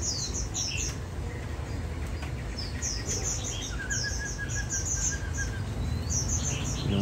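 An Oriental magpie-robin from Đắk Nông sings a steady run of bright chirps, short whistled notes and rising calls, fairly close, over a constant low background hiss and rumble.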